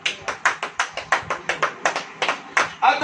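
A church congregation claps hands together in a steady, even rhythm of about a dozen sharp claps, loud and close, with a burst of overlapping claps and voices at the end.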